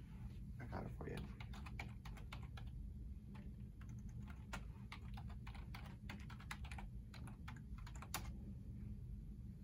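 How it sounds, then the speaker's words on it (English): Someone types a password on an office computer keyboard, a quick run of irregular key clicks in bursts over a steady background hum, fairly close and moderately quiet. "let me just type it in for you"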